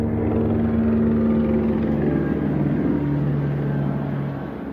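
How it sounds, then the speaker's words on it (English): A helicopter flies over, its steady rotor and engine drone loud and continuous before fading slightly at the end; no one speaks. "the helicopter flying over creating audible activity"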